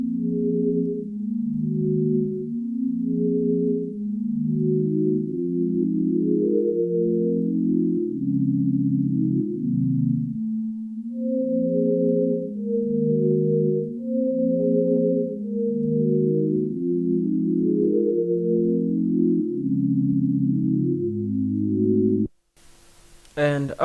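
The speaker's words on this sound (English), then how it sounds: "this is how the pad sounds like" A soft synthesizer pad plays sustained chords that shift in a steady pattern, filling the clip evenly before a brief break at the end.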